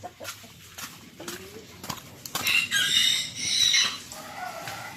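Chickens on a backyard farm with newly hatched chicks, clucking and calling in a busy, fairly close chorus of overlapping bird voices, some shrill high cheeps rising over the flock.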